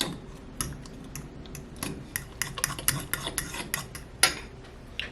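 Sweet potato pancake batter with eggs and brown sugar being mixed in a bowl, quick irregular clinks and scrapes of a utensil against the bowl, close and moderately quiet, no voices.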